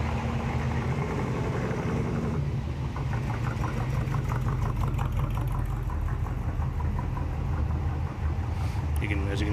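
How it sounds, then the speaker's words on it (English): Engines of classic and high-horsepower cars rumble steadily as they cruise past at a McMinnville car cruise, a continuous low, loud drone with passing swells and talk over it. "As you can hear the rumble of all these cars going by."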